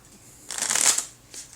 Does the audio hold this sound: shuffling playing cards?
yes